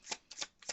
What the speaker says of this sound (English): let's get a couple of clarifiers from Spirit